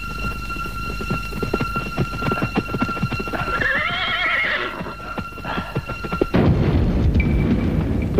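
Horses whinny loudly up close while hooves clop in a rapid uneven rhythm during a chase scene in a film, ending in a heavy booming thud.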